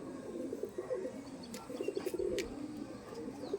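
Several pigeons coo in low, rolling bursts, with a few faint chirps and clicks nearby.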